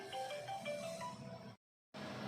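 A phone ringtone for an incoming call plays as a short repeating tonal melody, fairly quiet, then cuts to silence briefly before resuming.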